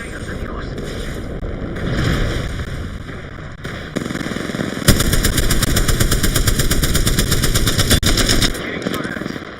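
Video game gunfire plays loud and continuous, with rapid automatic bursts that grow denser and more sustained in the second half while a voice talks over the shooting.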